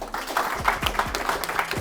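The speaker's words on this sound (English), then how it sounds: "can we have a big round of applause, please?" An audience at a live interview event in Worthing claps briefly, a short burst of steady applause heard close by.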